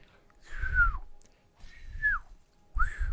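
A voice imitates the whistle of a thrown Black Cleaver from League of Legends: three close, breathy whistles, each sliding downward in pitch, separated by short pauses.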